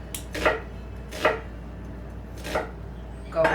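A knife chops through an onion on a cutting board in four separate crisp, close thuds spaced unevenly about a second apart, with quiet room tone between strokes and no voices.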